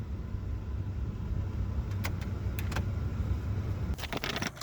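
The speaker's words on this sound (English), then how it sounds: "The blower's still running." HVAC blower motor in a 2003 Chevy 2500 pickup that stays on, a faint steady low whir inside the cab with a few brief light clicks and rattles, ending in a short burst of jangling.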